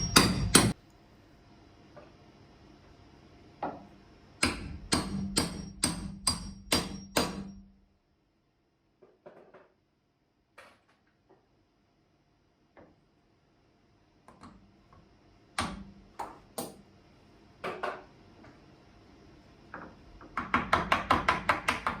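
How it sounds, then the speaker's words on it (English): Hammer strikes driving nails into wooden carvel boat planking in quick bursts of several blows, separated by quieter pauses with lighter taps, ending in a rapid flurry of hits. "This setup is rigid enough to allow me to drive the nails without backing up with a dolly"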